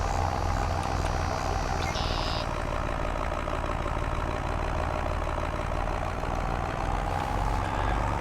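Tractor engine in the Farming Simulator video game, a steady low mechanical drone running continuously at an even volume, with a brief higher tone near the start.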